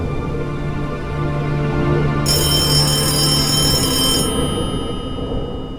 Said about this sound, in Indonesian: Pada pagi yang dingin di Januari itu, telepon kantor polisi berdering nyaring.